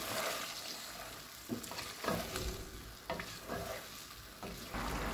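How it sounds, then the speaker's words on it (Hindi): Chicken handi with softened tomatoes and four spoons of yogurt being mixed in a pan, giving a low sizzle broken by several distinct scraping stirs of a spoon, close and moderately quiet with no talking. "मिक्स करेंगे अच्छे से।"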